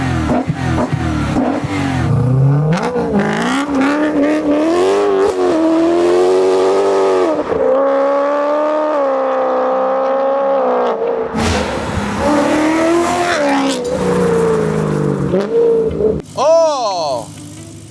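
A HY car engine revs up and down repeatedly with loud intake noise, rising and falling pitch sweeps close by, broken by a brief quiet gap, with people talking over it.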